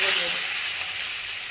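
Mustard seeds temper in hot oil with a loud, steady sizzling hiss that fades slightly toward the end, close up and with no talking.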